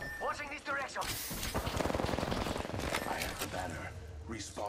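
Rapid automatic gunfire from the video game Apex Legends rattles in a dense burst lasting about two seconds, loud and close, with a voice talking just before and after.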